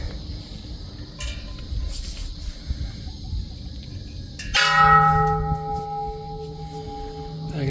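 A bell at a Buddhist temple in Krabi, Thailand, is struck once by a visitor, ringing out loud and clear and then humming in a long fading tone over a murmur of ambient background noise.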